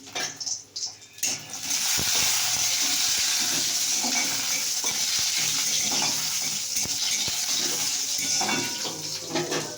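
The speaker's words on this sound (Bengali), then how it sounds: "তো আমি বড়িটা ভেজে নিচ্ছি" Bori, sun-dried lentil dumplings, fry in hot oil with a loud, dense, steady sizzle and crackle, starting after a brief quieter moment and continuing close up throughout.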